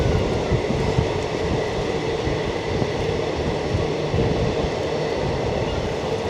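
A MEMU train rolls into Kanhangad station with a steady, loud rumble of wheels and running noise throughout, no voices.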